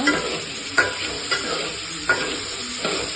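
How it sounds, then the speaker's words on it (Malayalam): Spatula stirring capsicum into chilli chicken in a frying pan, with a steady sizzle and four distinct scraping strokes spaced through the clip, close and fairly loud, no talking. "ക്യാപ്സിക്കം കൂടെ ഇട്ടിട്ട് നന്നായിട്ട് ഇളക്കിക്കൊണ്ടിരിക്കുക"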